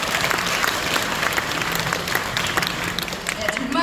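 An audience at the opening ceremony of a Buddhist choir's founding concert at Dongguk University claps in sustained, dense applause throughout.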